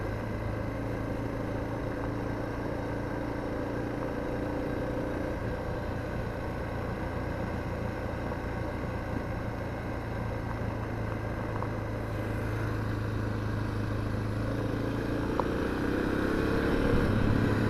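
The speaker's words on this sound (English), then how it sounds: "I'm just idling down this right now." A Suzuki DR650 motorcycle idles along a quiet road, a steady low engine burble at moderate level that rises slightly near the end, with no talking.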